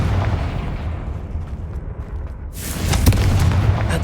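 A Confringo fire spell detonating in Hogwarts Legacy, with a low rumbling boom surging into a bright, crackling blast partway through, loud and close over a steady low background.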